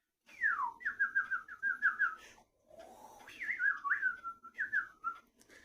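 A man whistles imitation birdsong: a downward swoop followed by quick, close chirping trills, a short pause, then another run of warbling chirps, loud and alone.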